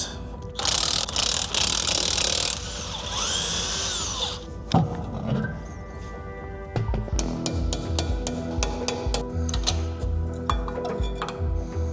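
A tool works a very tight wheel bolt loose on a BMW M2 F87, with a loud whirring burst and then rapid clicking, ratcheting mechanical noise close by.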